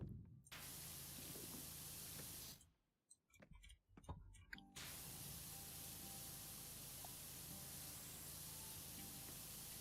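Power washer spraying an ice rink in a video game, a steady loud hiss of jetting water that cuts out briefly for a couple of seconds with a few clicks, then resumes evenly.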